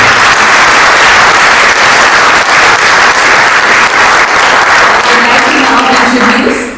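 An audience applauds a musician at a spiritual book launch event, loud sustained clapping from many hands that stays dense and even before a voice begins speaking near the end.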